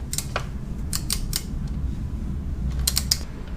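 A torque wrench on an extension tightens the front-wheel bolts of a Husqvarna FE 350 dirt bike with carbon fiber parts nearby, giving scattered sharp metallic clicks and ratchet creaks in small bursts over a steady low hum.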